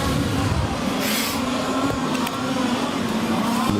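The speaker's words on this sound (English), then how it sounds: "Four cars you see battling over third," Several large scale touring cars battle closely in a European Championship race, their motors whining in a continuous buzzing drone with small bursts of higher noise, fairly loud throughout.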